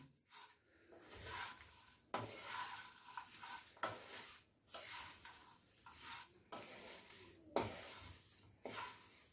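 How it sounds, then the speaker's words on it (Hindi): Poha being stirred in a pan over a low flame, a spoon scraping and clinking against the metal in repeated strokes every second or two, with a soft sizzle underneath, close and fairly quiet. "अब इसमें पोहा ऐड करेंगे अब इसको अच्छे से मिक्स करें"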